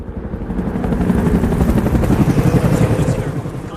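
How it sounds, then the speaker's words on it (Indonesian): Three military helicopters fly in a film scene, a loud steady rotor chop pulsing rapidly and continuously throughout. "kita akan melihat 3 helikopter militer yang tengah melakukan penerbangan"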